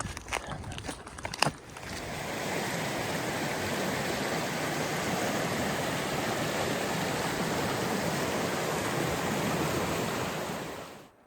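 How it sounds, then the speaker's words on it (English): Steady, full rush of creek water running alongside an Appalachian Trail hiking path, a few footsteps and thumps at first, then a loud continuous roar held close for several seconds before it fades at the end. "all that water I've been walking next to is running right down into Dismal Creek"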